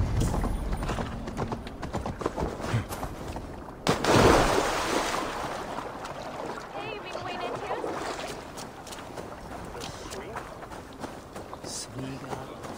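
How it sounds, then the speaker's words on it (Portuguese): Horses gallop in Assassin's Creed Valhalla, with steady pounding hoofbeats and movement noise running throughout, a louder surge near the middle, and voices talking over the action. "Parem os cavalos!"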